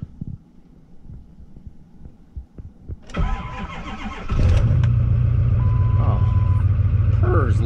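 A lifted Ford F450 diesel truck cranks briefly and then fires, settling into a loud, steady, throbbing idle right up close.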